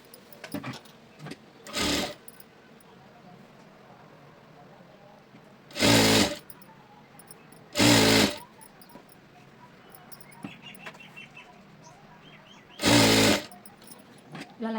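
A sewing machine stitches a lined blouse in four short, loud bursts separated by quiet pauses, each run lasting under a second, with faint handling noises in between.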